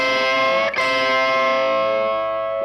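A distorted electric guitar sustains a ringing double stop, its middle-finger note bent upward so the two pitches grind against each other, held loud and steady for a few seconds after a brief re-pick.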